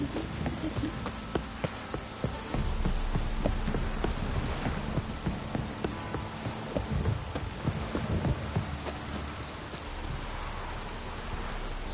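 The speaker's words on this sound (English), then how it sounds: "This downpour's a bastard" Heavy rain pours down in The Witcher 3, a steady, dense hiss of drops beating on surfaces, with low rumbling underneath and occasional sharper splashes throughout the twelve seconds; no voices are heard.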